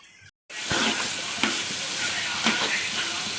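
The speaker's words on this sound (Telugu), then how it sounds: "చూడండి ఫ్రెండ్స్, ఇప్పుడు పెరుగు వేసేస్తున్నాను." Yogurt hits a pan of frying vegetables and spices for vegetable biryani, bursting into a loud, close sizzle with stirring scrapes and small repeated clicks over a steady frying hiss.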